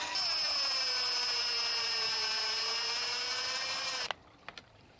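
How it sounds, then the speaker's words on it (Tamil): A power drill drives screws through a laminate sheet and wire in a garden, whining steadily and close for about four seconds before stopping, followed by two faint knocks. "அப்படியே இனி வந்து இந்த ஷீட்டும் இந்த கம்பியை சேர்த்து ஸ்க்ரூ போட்டுடுறேன்."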